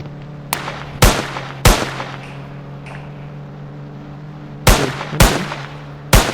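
Gunfire in the mobile game Indian Bike Driving 3D: loud, sharp shots that come singly and in close pairs with short gaps, each with a quick decay, over a steady low engine-like hum.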